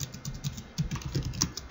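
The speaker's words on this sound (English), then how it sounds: "and in here we type router" Quick, irregular keystrokes clatter on a computer keyboard while router configuration commands are entered, close and clear, with no talk.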